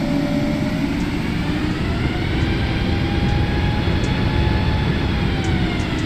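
Boeing 737 MAX airliner in a flight simulator game, rolling after landing: a steady, loud broadband engine rumble and roar with a faint whine on top, continuous and unbroken throughout with no voices.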